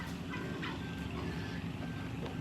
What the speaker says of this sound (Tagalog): Ito yung mga pabo ni Obong